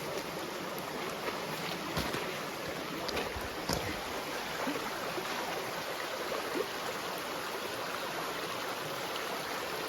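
A mountain stream on the Appalachian Trail rushes and burbles steadily for the whole stretch, a constant close watery wash with no voices.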